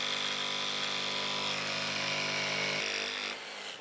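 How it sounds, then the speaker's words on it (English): A miter saw cuts the excess off a wooden workpiece, a loud steady high whine from a close blade that holds for about three seconds, then drops away as the motor spins down. No one speaks. "First, I want to cut off the excess on the miter saw"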